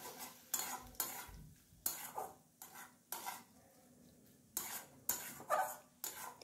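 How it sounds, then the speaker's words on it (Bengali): Stirring mashed flat beans with salt in a pan, a spoon scraping and clinking against the metal in repeated short bursts with quiet gaps between, close and fairly soft. "এখন খুব ভালো করে এটাকে নাড়াচাড়া করব।"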